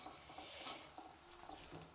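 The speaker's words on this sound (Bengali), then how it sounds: "এই যে খুন্তির আওয়াজটা শুনে আমি ভয় পাচ্ছি।" A metal spatula stirs potatoes frying in a pan, making a soft continuous sizzle with faint scraping, quiet and close with no voices.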